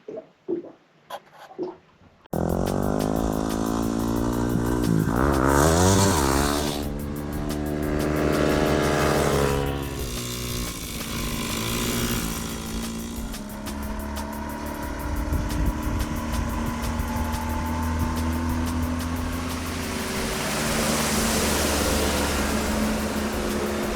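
Brand-new 2022 Yamaha T9.9hp outboard kicker motor starting up after a brief quiet moment, then running with a loud, steady, buzzy drone, revving up and settling into a continuous idle close by.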